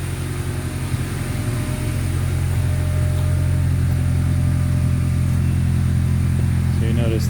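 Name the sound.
2003 Honda Accord with Magnaflow exhaust idling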